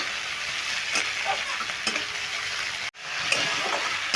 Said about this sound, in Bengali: দেখো পেঁয়াজ আর টমেটোটা খুব ভালো করে ভেজে নিয়েছি